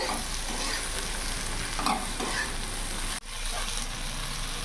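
Okra being stirred as it fries in a pan for a potato-okra dish, giving a steady close sizzle with soft scraping stirs and a brief break near the end, with no talking.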